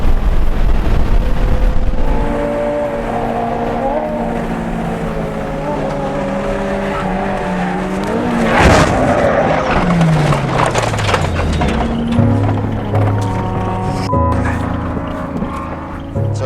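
A Honda Civic with a swapped Type R engine races on track, its engine loud and close, climbing through revs, dropping on shifts and rising again, with wind and road noise and a voice underneath.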